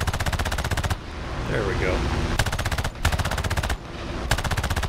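Aircraft machine guns firing in War Thunder from a Ki-10-I biplane in an air realistic battle: loud, rapid, rhythmic bursts start and stop in three separate volleys, with engine drone between them and a brief spoken remark.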